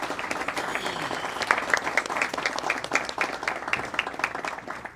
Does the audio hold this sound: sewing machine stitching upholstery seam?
no